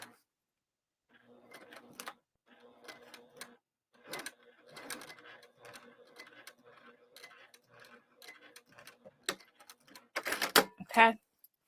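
A sewing machine stitching slowly through thick bag layers, short bursts of rapid mechanical clatter with pauses, ending in louder, denser runs.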